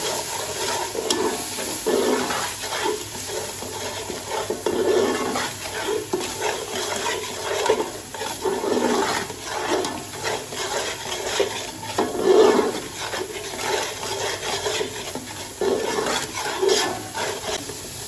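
Masala for a beef yakhni pulao frying and being stirred in a pan, a steady close sizzle broken by repeated scraping strokes of a spoon, with no voices.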